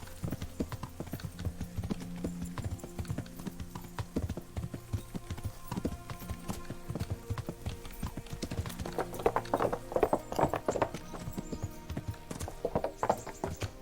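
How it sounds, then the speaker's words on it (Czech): A horse gallops in Kingdom Come: Deliverance, its hooves beating a fast, steady clip-clop throughout, growing louder with scuffs and thuds in the second half. "Ten kůň je fakt rychlej."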